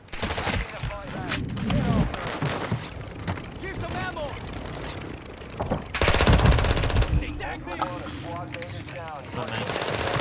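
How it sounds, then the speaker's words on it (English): Assault rifle fire in the video game Call of Duty DMZ, loud rapid bursts and sustained automatic volleys at close range, with players talking over the shooting. "You're getting out sniped by an assault rifle."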